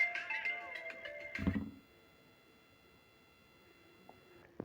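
A mobile phone receiving an incoming call sounds a melodic ringtone of bright repeating tones that cuts off after about two seconds, followed by faint room tone and a few small clicks.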